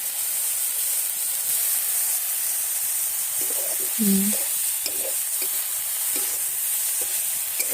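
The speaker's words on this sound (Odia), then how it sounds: "ଚୁଲିରେ ଭଜା ଯାଉଛି। ହେଇଗଲା ଶାଗ ଭଜା।" Leafy saag greens fry on a stove in a continuous, dense sizzle and hiss, broken by brief stirring scrapes and a short squeak midway, with no voices.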